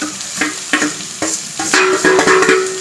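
Chillies and curry leaves fry in a hot pan with a loud, steady sizzle, while a utensil stirs and scrapes in quick, regular strokes.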